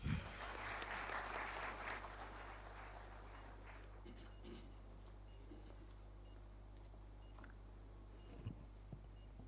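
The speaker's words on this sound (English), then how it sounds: "kindly welcome Sir with a round of applause" Applause greets a guest at an indoor inauguration of a forensic laboratory, a brief burst of clapping at the start that quickly fades into a faint room with a steady low hum and a few scattered sounds.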